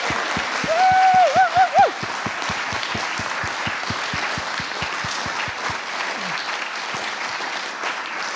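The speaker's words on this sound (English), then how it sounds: "Can you join me in a huge round of applause for what we've heard this evening so far?" An audience at a music showcase claps for the performers in a sustained round of applause, with a rhythmic unison clapping beat and a brief whoop or cheer early on.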